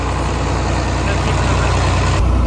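A John Deere 4230 tractor engine, running without its fan shroud, chugs loudly and steadily with a close, rhythmic low pulse throughout.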